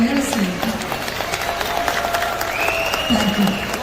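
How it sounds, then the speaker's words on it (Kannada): Audience applause at a Kannada Rajyotsava celebration held by Kannadigas in Dubai, a steady wash of clapping carrying on beneath a voice and some faint tonal sounds. "ಸ್ವಲ್ಪ ಚಪ್ಪಾಳೆ ಸೌಂಡ್ ಅಷ್ಟು ಜೋರಾಗಿ"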